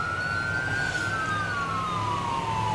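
A wailing emergency siren on an ambulance in a semi-realistic roleplay video game, its pitch sweeping steadily up and down, loud and continuous against a low engine rumble.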